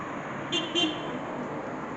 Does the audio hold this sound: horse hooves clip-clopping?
no